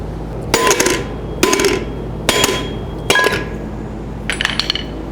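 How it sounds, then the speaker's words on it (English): Five heavy metallic hammer blows strike a rusted rear wheel bearing on a 2002-06 Toyota Camry at irregular intervals, each a sharp clanging strike with a short ringing tail, close and loud. "I'm going to give it a try with a regular hammer this time"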